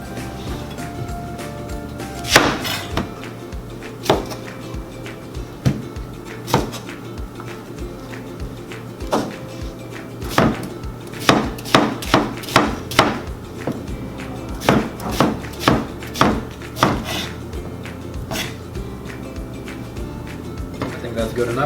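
A knife chops onion, carrots and celery on a board for soup, irregular sharp thuds scattered in short bursts, some clustered quickly, against a quiet kitchen background.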